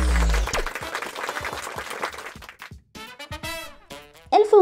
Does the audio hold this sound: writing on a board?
no